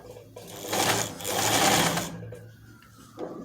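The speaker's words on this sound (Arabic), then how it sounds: "ونبدأ نخيط." A sewing machine runs in two bursts, stitching the seam of a plain flared circle skirt, its steady motor whir close and loud before slowing to a quieter hum.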